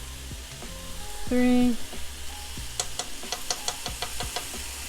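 Ginger and garlic hitting a hot stir-fry pan with chicken, giving a steady sizzle broken by clinks and taps of a utensil, with a brief tonal beep partway through and a voice speaking briefly.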